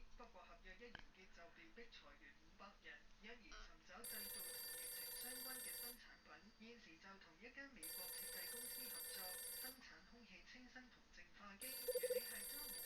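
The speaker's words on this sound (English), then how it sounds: "It's my phone." A telephone bell rings in loud repeated bursts of about two seconds with pauses between, over a quieter background of music and voices.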